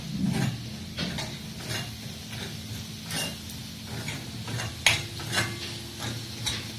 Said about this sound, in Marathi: सगळे मसाले व्यवस्थित आपण परतवून घेतोय